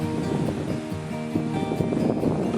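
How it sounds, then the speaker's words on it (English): Wind gusts across a one-lane bridge over the Stony River near Isabella, Minnesota, in springtime. It rushes and buffets close to the microphone in uneven surges, with faint tonal hums beneath and no speech. "I didn't realize it was going to be this windy."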